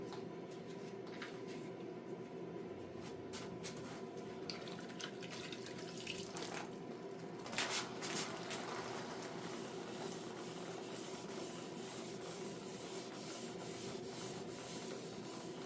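Fine-grit wet sandpaper rubbed over the painted body of a Farmall 450 tractor, a steady soft continuous scrubbing hiss with faint watery texture, quiet and even throughout without speech.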